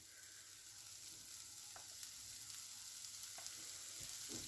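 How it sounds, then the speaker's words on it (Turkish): A pan sizzles faintly and steadily as food is sautéed in butter, with a couple of soft stirring taps near the end and no voices. "Şöyle hafif karıştırıp güzelce bunu bir tereyağıyla soteleyeceğim"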